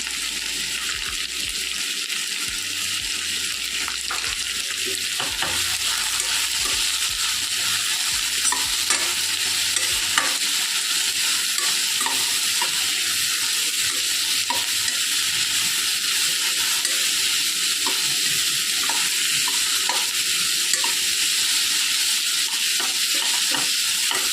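Salted, finely cut bitter gourd frying on a low flame, a soft continuous sizzle with occasional faint stirring scrapes throughout, steady and unhurried, with no speech.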